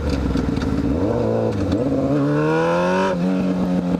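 A 600cc inline-four motorcycle with a straight pipe accelerates in gear, its loud, close engine note climbing steadily in pitch with a brief dip between pulls, continuous throughout with no talking.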